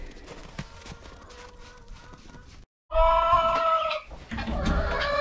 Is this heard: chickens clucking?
yes